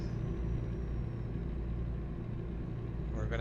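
Truck engine in American Truck Simulator droning steadily while driving, a low even rumble with a faint whine above it and a brief rising sweep at the very end.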